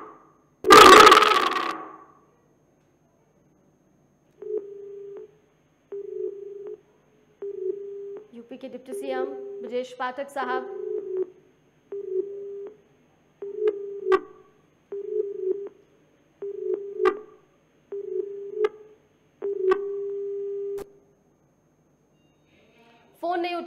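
An unanswered outgoing phone call rings repeatedly, steady evenly spaced tones after a loud opening click, with someone speaking Hindi between and over the rings.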